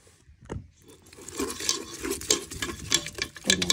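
Ube pandesal dough being mixed by hand in a bowl, with soft irregular stirring and patting sounds close by, quiet and continuous, with light scrapes and clinks of a utensil.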